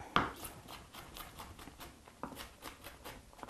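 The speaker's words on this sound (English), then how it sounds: "I like to chop it quite fine" A knife chops vegetables finely on a board for a salad, a soft, quiet run of light, rapid taps with one sharper knock near the start, fairly close.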